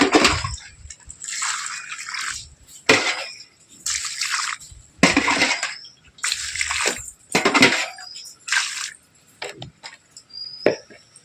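Water poured onto a potted jasmine plant comes in repeated splashing bursts of about a second each, separated by short pauses, close and fairly loud, with a few drips between.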